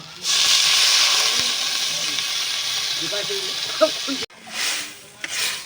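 Water is poured into a hot pan while cooking a soybean curry, setting off a loud burst of hissing steam that gradually fades, then a pause and a few short stirring scrapes and hisses.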